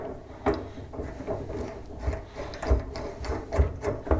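A fuel filter is screwed by hand onto a Mr. Buddy propane heater, giving a series of close, uneven scraping and clicking thread sounds and small knocks.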